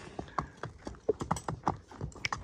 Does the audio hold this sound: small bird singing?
no